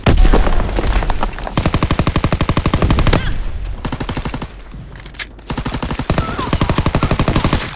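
Loud, rapid bursts of automatic gunfire in a video game, with brief pauses between volleys, sharp and close, with no talking.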